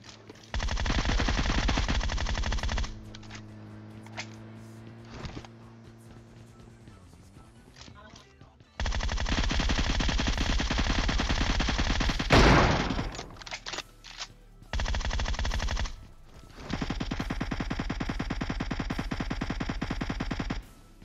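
Rapid automatic gunfire bursts in the mobile battle royale game PUBG Mobile, several long loud volleys separated by short pauses and a sharp single blast midway, close and dominant.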